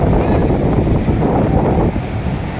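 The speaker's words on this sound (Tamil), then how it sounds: "எவ்வளோ பெரிய கடல் பாருங்கள்." Sea waves at Kovalam beach rumble under strong wind buffeting the microphone, a loud, dense, continuous roar that eases slightly near the end, with no clear talk.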